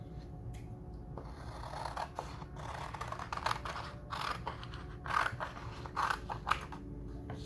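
Scissors snip through paper, cutting out a paper envelope template, with a steady run of close, crisp cuts and small rustles that come a little louder in quick bursts toward the end.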